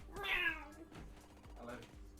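A cat meows in a video game, a clear close mew followed by a softer second meow, with music and voice chatter underneath.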